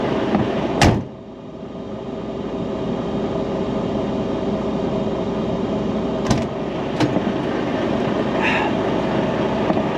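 A truck's refrigeration reefer unit runs as a steady, droning mechanical hum at a Canadian border crossing, preceded by a sharp door-like clunk near the start and a few brief knocks later.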